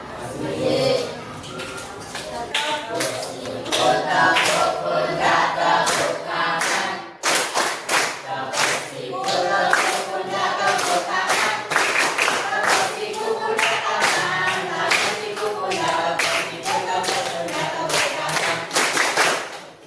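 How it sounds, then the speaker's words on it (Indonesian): A group claps together in a steady, rhythmic motivational pattern during a Pancasila education class session, the claps loud and close, broken by a short pause partway through, with some voices mixed in. "tapi tepuk semangat, tepuk motivasinya, espritinya, biar kita lebih semangat"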